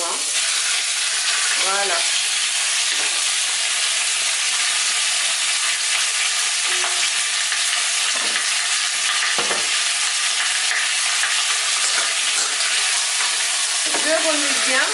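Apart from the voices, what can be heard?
meat pieces frying in hot oil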